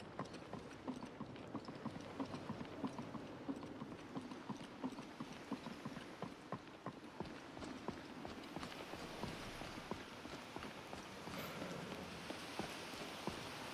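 Steady horse hooves clip-clop in Skyrim VR, a continuous rhythmic patter over a soft rain-like ambience, moderately loud and unaccompanied by speech.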